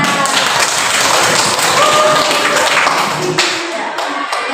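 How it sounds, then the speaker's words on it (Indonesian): Applause fills a classroom after a group presentation, a dense wash of clapping hands that holds steady for several seconds before thinning out, with some voices mixed in. "Ada tepuk tangan."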